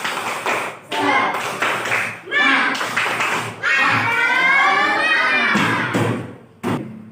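A classroom of children performing a rhythmic spirit clap chant, sharp unison claps in bursts alternating with loud shouted chanting by young voices, the group cheering together before a final few claps.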